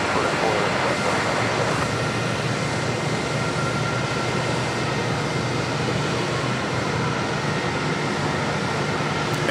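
An Air France Boeing 777-300ER airliner arriving from Paris, a steady broadband jet roar at an airport that stays loud and constant throughout.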